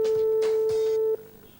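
A steady telephone line tone sounds on a call to a court, holding for about a second before cutting off abruptly, leaving faint line noise.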